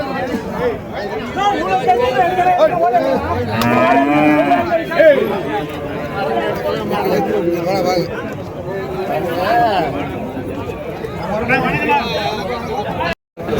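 Cattle and calves at a busy cattle market in Madrapalli, Tirupattur district, lowing and mooing repeatedly amid crowd chatter, with someone talking close by throughout.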